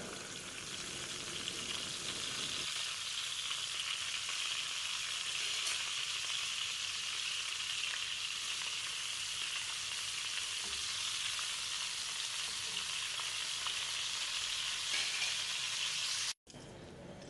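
Chicken seekh kebabs sizzle on a dosa tawa over a low flame, a soft, even frying hiss that runs steadily throughout and cuts off abruptly near the end.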